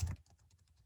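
A brief burst of computer keyboard typing while filling in a name field: one loud cluster of key clicks, then a few faint, scattered taps, close and with no talking.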